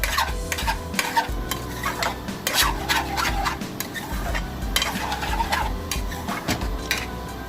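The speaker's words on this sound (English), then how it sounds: "I'm just giving a nice stir, guys, so everything mixes, all the powder" A spoon scrapes and stirs king prawn curry with curry and chili powder in a hot pan, repeated rhythmic scraping strokes over a steady sizzle, close and clear with no talk.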